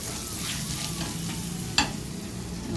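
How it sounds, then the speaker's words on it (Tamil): Roasting in a pan over a low simmering flame while cooking rajma, a soft continuous sizzle with faint stirring scrapes and one sharp clink near the end, quiet and close. "அடுப்பை உரைச்ச தீயிலே வச்சு சிம்மில் வச்சு நல்லா ரோஸ்ட் பண்ணுறேன்"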